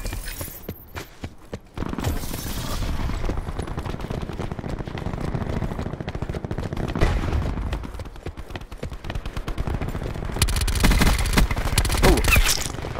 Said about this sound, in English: Stop shooting, Plat.